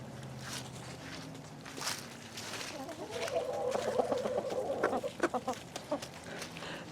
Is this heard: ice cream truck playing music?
no